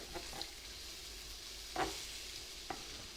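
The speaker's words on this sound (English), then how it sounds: "We're just going ahead add in the pepper, stir frying it a little bit." Pepper and carrot stir-fry for Singapore noodles, a steady soft sizzle with a few brief scraping stir clicks from the pan, quiet and close with no talk.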